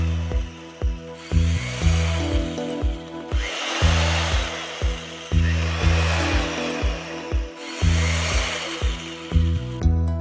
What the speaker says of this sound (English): Use a small drill bit and make a line of 5 to 7 holes to locate the edges of the joist.